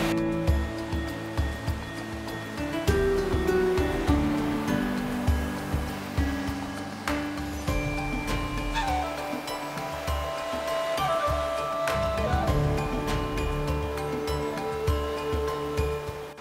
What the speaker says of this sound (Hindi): सामने आप नोटिस करो, पहाड़ के बीच में से पानी निकल रहा है जो यहाँ स्ट्रीम फॉर्म कर रहा है।